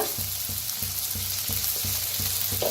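Tomato, onion and spring onion fry in a pan with turmeric and chili powder, giving a steady close sizzle with a faint low rhythmic thump underneath.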